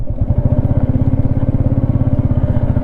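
A Royal Enfield Meteor 350 motorcycle ridden at low speed with the clutch slipping, its single-cylinder engine thumping in a loud, steady, rapid pulse close by, with no talking.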